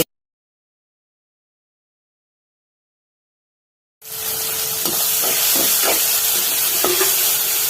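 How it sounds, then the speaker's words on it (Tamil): Spice paste sautéing in a pan for bottle gourd masala, a steady close sizzle and hiss that starts abruptly after four seconds of silence, with faint stirring knocks through it. "பேஸ்ட் ஒரு ஸ்பூன் சேர்த்து வதக்கலாம்."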